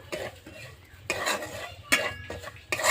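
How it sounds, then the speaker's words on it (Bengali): Dry semolina scraped and stirred as it roasts lightly in a pan, with irregular clinks of a utensil against metal in short bursts. "এবারে হালকা করে আমি ভেজে নেব"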